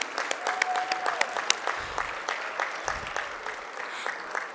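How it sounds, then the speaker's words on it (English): At a sports hall of fame induction ceremony, a banquet audience claps for the chef with sharp, distinct hand claps, moderately loud and fairly sparse rather than a dense roar, with brief low thumps in between. "let's give him a round of applause for the food"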